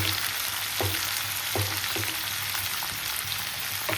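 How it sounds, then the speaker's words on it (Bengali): Onions frying in a cooking pan for chicken pulao give a continuous close crackling sizzle, broken by several soft stirring scrapes at irregular intervals, with no talking. "পেঁয়াজটা ভালো করে ভাজবো।"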